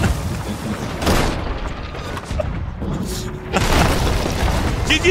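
Cannon fire during a pirate ship battle in the video game Sea of Thieves: two heavy, booming blasts with a rumbling tail, amid constant game noise and some background voices.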